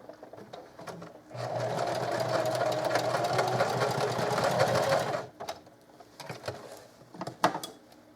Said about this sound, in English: put a little stitch right there just to kind of hold it in place